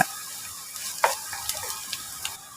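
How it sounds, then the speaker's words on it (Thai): Garlic stir-frying in a little leftover oil from frying shrimp, giving a soft steady sizzle with a few light scraping stirs and small ticks, close and fairly quiet. "ให้เหลือเล็กน้อยแล้วก็มาคั่วกับ กระเทียมมาคั่ว"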